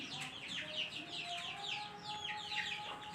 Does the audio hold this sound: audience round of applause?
no